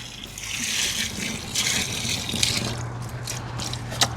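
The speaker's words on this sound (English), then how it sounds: "So now we'll go ahead and add our water." Water is poured into concrete mix for setting deck posts, a soft splashing trickle with faint gritty churning and a couple of light clicks, fairly quiet and close with no talking.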